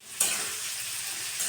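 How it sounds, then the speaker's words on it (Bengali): Tomatoes sautéing in a hot pan while cooking a curry with flat beans and tengra fish, a steady broadband sizzle starting abruptly and holding even, close and moderately loud, with faint stirring scrapes and no talk. "এখন টমেটো দিয়ে কষিয়ে নিই"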